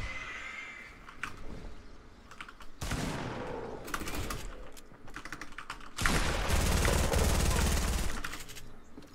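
Gunfire from the most powerful gun in Fortnite Battle Royale, bursts of rapid shots cracking in clusters over in-game noise, loudest near the end, with a player talking intermittently.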